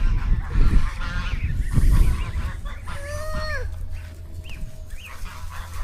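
Ducks honk and quack in short nasal calls close by, a few bursts in the middle, over outdoor background noise and rustling.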